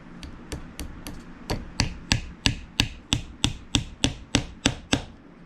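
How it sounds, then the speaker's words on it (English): A hammer peening brass pins into a Bowie knife's coffin-style handle, a steady series of about fifteen sharp, evenly spaced metallic taps, close and loud with no talking. "you peen these pins, it will expand that whole piece of brass all the way through that handle"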